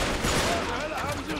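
Gunfire from the video game Uncharted 3: Drake's Deception Remastered on PS4, a dense, rapid burst of shots filling a brief moment, heard close and loud with a voice talking over it.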